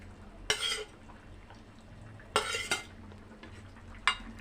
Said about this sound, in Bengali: এবারে দিয়ে দিব আগে থেকে ভেজে রাখা মাছগুলো।